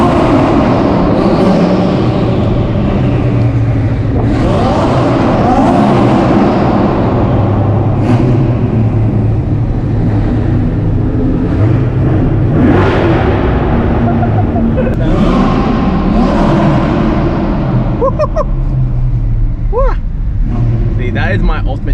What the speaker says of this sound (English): that C8 sounds so nice